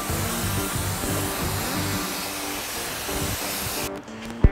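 A spray gun painting a car in a home garage, a steady loud hiss of air and paint that cuts off abruptly near the end, followed by a brief clunk.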